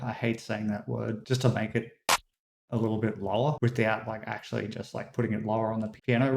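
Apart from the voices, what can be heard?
None of the usual background noises is heard.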